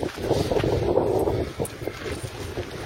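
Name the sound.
strong wind blowing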